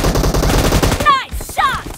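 Rapid gunfire bursts from a weapon in PUBG Mobile, loud and close, followed by a couple of brief sharp game effects.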